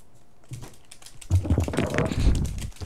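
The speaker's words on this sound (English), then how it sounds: "Listen to the clicking and clacking of this keyboard." A computer keyboard clicks and clacks under quick, uneven keystrokes, close and fairly loud, with a short soft patch before the typing grows denser.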